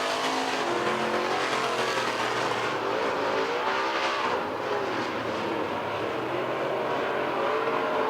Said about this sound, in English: White flag in the air for the 23 of Mark Simon. He's just got 1 more lap to go.